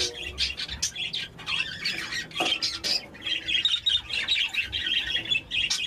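A flock of green parakeets squawks and chirps continuously nearby, with sharp overlapping calls in a busy, loud chorus.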